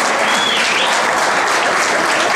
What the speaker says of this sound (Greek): Πραγματικά τους αξίζουν ένα θερμό χειροκρότημα.